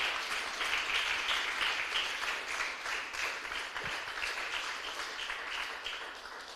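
Congregation in a church clapping for the Lord, a continuous dense wash of applause filling the whole stretch at a steady, loud level with no voices standing out.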